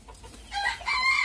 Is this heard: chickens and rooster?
yes